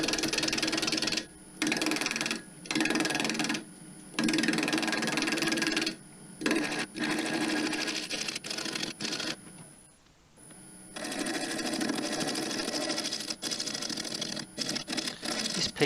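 A cherry branch bowl blank spins on a wood lathe between centres while the corners of its underside are cut away, giving bursts of scraping, chattering cutting noise broken by short pauses.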